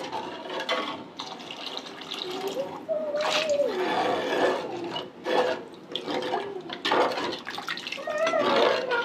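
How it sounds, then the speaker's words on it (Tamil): Water splashes and pours in uneven surges into a cooking pot for fish curry, close by, while a voice talks intermittently over the running water. "கூட கொஞ்சம் தண்ணி ஊற்றிக்கலாம்."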